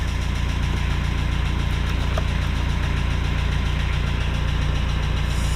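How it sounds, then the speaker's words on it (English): A TYM tractor engine idles steadily nearby, a constant low rumbling drone with mechanical clatter and no voices. "Tractor's running."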